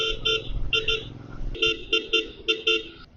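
A Continental GT 650 motorcycle horn honks in a string of short, sharp toots, some doubled, close and insistent over faint engine noise.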